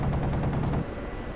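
Aircraft cannon in the DCS flight simulator fires a dense, rapid burst of rounds that roars continuously for under a second, then drops to a lower rumbling engine drone.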